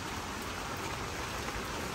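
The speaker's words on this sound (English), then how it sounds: "since it's raining" Rain falling on a farm, a dense, steady hiss of drops on surfaces filling the whole clip close by, with no voices.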